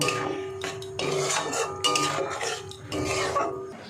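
Paneer tadka is stirred in a metal pot, with a spoon clinking and scraping against the sides in several short bursts of mixing.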